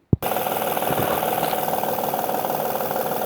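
Honda Odyssey engine with a faulty timing belt tensioner starts up and runs, a fast, even mechanical ticking over a rough idle, loud and close.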